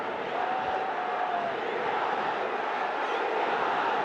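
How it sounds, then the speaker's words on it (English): Cricket stadium crowd roaring during a Bangladesh Premier League match in Dhaka, a loud continuous swell of massed voices that stays dense and steady from start to finish. "the roar of the crowd"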